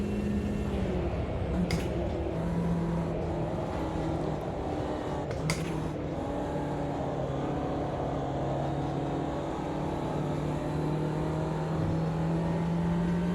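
A Ginetta race car engine in Automobilista 2 drones steadily throughout, holding a sustained tone with small shifts in pitch and a couple of brief sharp clicks.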